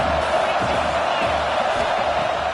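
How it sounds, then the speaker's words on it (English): Stadium crowd in an NCAA football video game, at an Indiana University game, gives off a steady, loud roar of cheering that holds evenly for the whole stretch with no clear peaks. "This crowd knows when to bring it."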